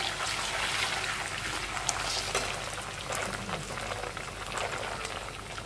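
Ginger garlic paste frying over medium heat in a pan for restaurant-style soya chaap, giving a steady, loud, dense sizzle and bubbling that carries on without a break.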